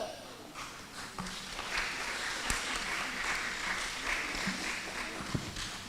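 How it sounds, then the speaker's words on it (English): An audience at a kindergarten graduation ceremony at Oshwal Academy Mombasa claps. The clapping is soft and rises after a quieter start, then holds as a steady patter of many hands in a large room. "A round of applause for the reception in."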